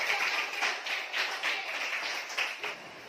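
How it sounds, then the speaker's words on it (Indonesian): A classroom group claps for the children, with uneven bursts of hand claps rising and falling in clusters, fairly close and lively, and faint chatter underneath. "Mari berikan aplaus bagi anak-anak kami."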